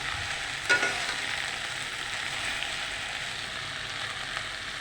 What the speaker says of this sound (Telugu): సో ఇప్పుడు వేయించుకున్న బెండకాయలు వేసుకుందాం. సో వేసేసి ఇలా మెత్తేసుకుంటున్నానండి